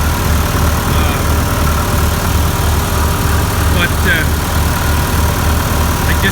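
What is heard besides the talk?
685 tractor engine running after cold start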